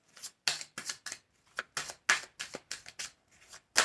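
Tarot cards shuffled by hand in quick, crisp bursts, a dozen or so close riffling snaps with short pauses between, fairly quiet and with no talk over them.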